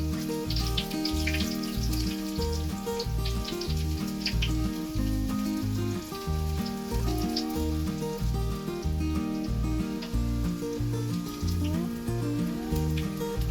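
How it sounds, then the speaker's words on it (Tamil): Crushed garlic frying in oil over a medium flame, a steady close sizzle and crackle that runs the whole time with no pauses, alongside a low rhythmic pulsing underneath. "அதையும் நம்ம எண்ணெயில் ப்ரௌன் கலர் வர வரைக்கும் வறுக்கணும்."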